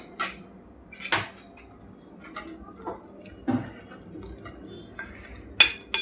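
A metal lid is lifted off an appe pan of cooking corn appe: a few light clanks and scrapes of metal spaced apart, then sharper clinks near the end, close in a quiet kitchen with no voices.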